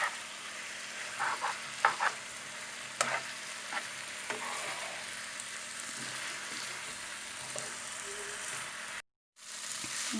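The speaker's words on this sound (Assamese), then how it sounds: "মিক্স কৰি দিব।" Chowmein mixture stirred in a frying pan over a gas flame, with a steady soft sizzle and scattered scraping clicks of the utensil against the pan, fairly quiet and without talking.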